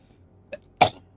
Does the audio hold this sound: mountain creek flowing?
no